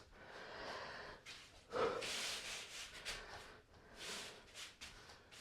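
Heavy, rhythmic breathing during a home workout warm-up, with breathy bursts and exhales repeating across the few seconds and a stronger gasp near the middle; no talking.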